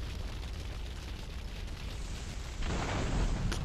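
An explosion in Grand Theft Auto III: The Definitive Edition gives a loud, rumbling blast that swells near the end over continuous game noise.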